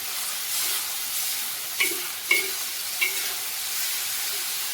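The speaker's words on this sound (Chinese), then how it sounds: "放下去之后呢，继续把它翻炒。" Stuffed pork and tofu stir-fried in a wok give a steady close sizzle, broken by three sharp scrapes of the spatula against the metal.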